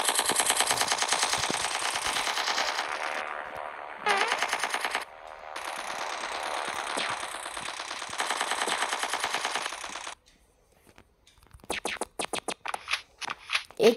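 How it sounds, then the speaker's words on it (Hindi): Rapid automatic gunfire in the video game Strike Fortress Box, long loud bursts broken by short pauses, then a choppy run of separate shots near the end, with no talk. "यार मैंने कितनी गोली मारी यार"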